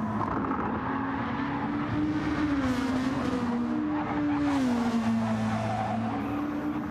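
Racing car from the video game Flatout on the Autopolis circuit, engine droning steadily with rising and falling pitch as it drives through a double right-hand bend, with some tyre noise, loud and continuous without talk.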